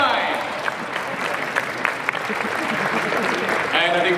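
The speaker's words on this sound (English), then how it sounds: "Huge round of applause." Audience applause at a furry convention dance competition, a thick wash of crowd clapping that holds steady throughout. An announcer's voice rides over the top of it.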